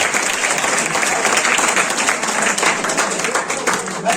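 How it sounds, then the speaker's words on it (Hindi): Students at a coaching-centre results ceremony receive dense, steady applause from a close audience, loud and continuous for several seconds with little variation. "ताली बजाइए इनके"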